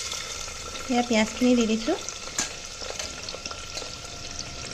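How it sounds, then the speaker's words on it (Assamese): Onions fry in hot oil in a pressure cooker for mutton curry, giving a steady crackling sizzle with stirring scrapes, while someone speaks briefly over it. "পিঁয়াজখিনি খুব ভালকৈ ৰঙচুৱা হোৱালৈকে পিঁয়াজখিনি এতিয়া ভাজি থাকিম"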